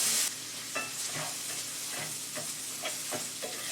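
Keto breakfast food toasts in a cast iron skillet with a steady, soft sizzle, punctuated by regular scraping and tapping from stirring. No one speaks.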